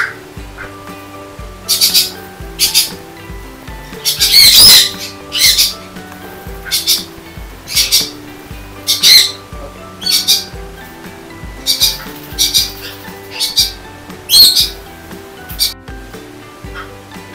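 Crimson-bellied conure parrots squawk close by, harsh loud calls repeating every second or so in irregular bursts, with a longer, louder outburst early on.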